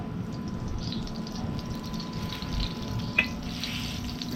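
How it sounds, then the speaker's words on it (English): Cooking oil seasoned with oregano and garlic pours onto a Cuisinart 360 grill outdoors, a steady soft liquid hiss and trickle with one brief tap, no talking. "I'm going to pour some oil on here."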